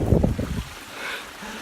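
Gusty wind blows across open moorland on a grey Peak District walk, a loud low buffeting burst that drops to a softer steady breeze.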